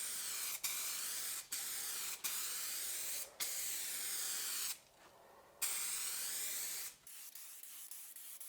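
An aerosol spray paint can hisses in long steady bursts over a car's clear coat repair, briefly cut off several times with short clicks, then a final pause and fainter hiss.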